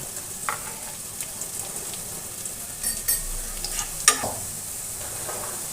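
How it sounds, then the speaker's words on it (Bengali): Cabbage dish frying in ghee over low heat, a steady soft sizzle with intermittent stirring scrapes and a sharp utensil clink near the end. "আমি আরও খানিকটা ঘি অ্যাড করে দিচ্ছি। পুরো রান্নাটাই আমি আজকে ঘি দিয়ে করব।"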